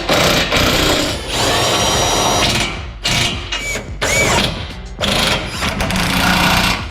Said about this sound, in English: Grab a 19 on a impact.